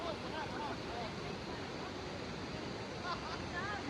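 A strong river current rushes past close by, a steady broadband roar of moving water that runs unbroken and fairly quiet with no clear voices.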